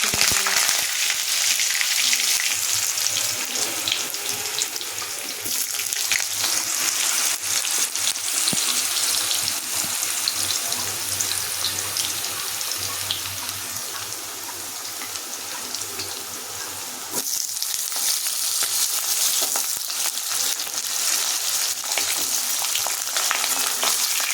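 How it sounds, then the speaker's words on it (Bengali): Potatoes frying in hot oil with a constant crackling sizzle and scattered pops from water in the pan, close by, with a brief dip partway before the sizzle resumes. "আলুটা ভাজা হোক ফুলটার মধ্যে একটু জল ছিল তাই ফট করে আওয়াজ হচ্ছে"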